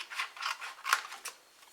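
Scissors cutting about an inch off card for a surprise crackers and chocolate box: soft, quiet snipping and rubbing strokes, five or six in quick succession, close by with no voices.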